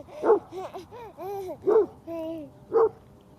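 A few dogs yipping, whining and barking off-mic in the background at home, several short sliding barks and whimpers in quick succession, moderately loud.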